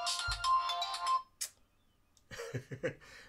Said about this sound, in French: Là, on appelle au téléphone.